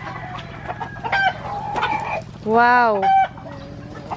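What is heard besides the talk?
labuyo (native junglefowl) chickens clucking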